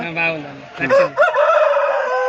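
A rooster crows loudly and close by at a poultry market, a single drawn-out call, with a brief voice and clucking just before it.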